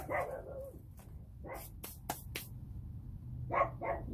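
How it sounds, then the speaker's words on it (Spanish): A dog barks several times in sharp, loud bursts, pausing between them, then gives a couple more barks near the end, as if reacting to strangers walking nearby outdoors. "sigue igual el perro ahí ladrando"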